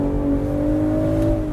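A 2025 BMW Z4 M40i with a six-speed manual gearbox revs hard from inside the cabin, a steady loud engine drone holding one pitch without a clear gear change.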